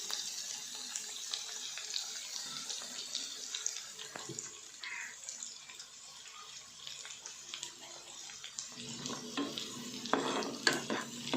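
Small onions frying in a pan for a spicy kendai fish curry, a steady close sizzle with scraping stirs throughout and a louder burst of crackling toward the end.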